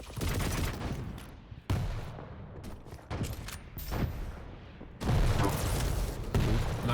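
Heavy weapon fire in an arena shooter duel, with a railgun shot among a dense barrage of loud booming blasts and explosive bursts in fast succession.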